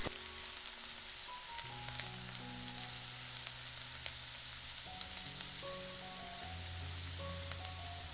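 Vegetables sizzling gently in a little warm olive oil in a pan, a soft steady crackle like light rain, quiet and continuous beneath sustained musical tones, with no one speaking.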